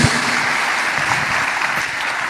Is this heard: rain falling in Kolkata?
no